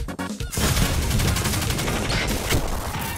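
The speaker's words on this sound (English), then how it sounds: "Forgot how much I fucking love this submachine gun." Submachine gun fire in Destiny 2, a dense, loud, continuous burst of rapid shots close up that keeps going for several seconds, with no voices over it.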